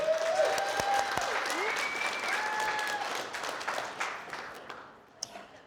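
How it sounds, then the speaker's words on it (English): Audience applause greets a son brought onto a stage at a live event, steady and dense at first, then thinning out toward the end, with cheering voices mixed in. "Clap it up for Grayson."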